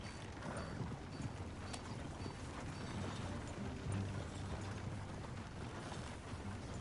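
Horse hooves clip-clop at a steady riding pace in the video game Red Dead Redemption 2, faint and continuous beneath a low outdoor ambient bed, with no voices.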